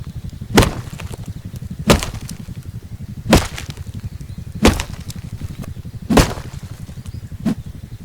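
Wood being chopped in the video game Rust: six sharp, loud thwacks spaced roughly a second and a half apart over a low steady background hum.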